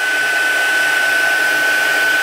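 A heat gun runs continuously while embossing powder on paper is melted, a steady loud whooshing blow like a hair dryer with a constant whine, holding level with no breaks.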